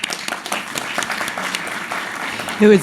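Audience applause at a think tank plenary session honoring the organizer, a dense steady clatter of many hands clapping close by, with a short tonal voice at the very end.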